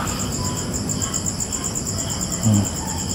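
Crickets chirp in a dense, continuous pulsing chorus, steady and fairly loud, with a faint low thump near the end and no talking.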